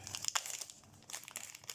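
Plastic packaging crinkles and rustles up close as small Christmas charms are placed inside, in quick irregular bursts of crackling with no speech.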